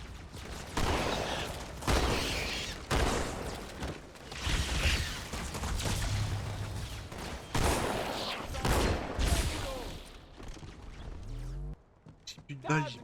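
Repeated bursts of gunfire in the Halo 2 video game, loud volleys in short clusters separated by brief pauses, fading out near the end.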